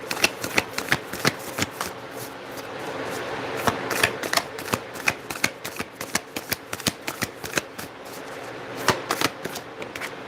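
A tarot deck is shuffled up close on a table, making a quick run of sharp, crisp card riffles and slaps in an irregular rhythm that continues for about ten seconds with no talking.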